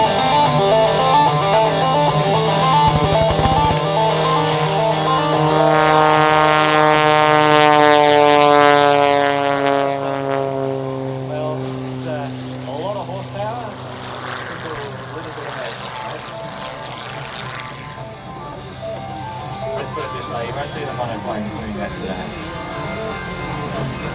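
A Pitts Pro aerobatic plane's engine roars during its takeoff at the Australian International Airshow, a loud, steady drone that climbs in pitch and then slowly fades as the plane moves away.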